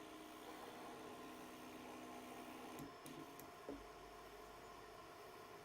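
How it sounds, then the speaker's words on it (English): A BQ Hurakan bed-slinger 3D printer hums steadily with a strange mechanical whine and a few brief clicks from its x-axis, heard close and alone at low level. "The x-axis is definitely making a very weird noise."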